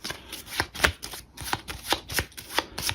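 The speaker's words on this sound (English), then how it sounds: "Pick up the cards, mix them all together." A deck of cards for the Wayfarers of the South Tigris board game is mixed by hand, giving a rhythmic series of soft, close slaps and flicks about every third of a second.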